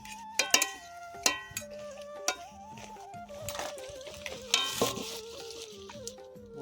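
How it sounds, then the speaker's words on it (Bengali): Aloo paratha frying in hot oil in the manner of luchi, with a steady crackling sizzle and intermittent clinks of a spatula or utensil against the pan, over a faint tonal background. "ওটা লুচির মতো ভাজছি আমরা"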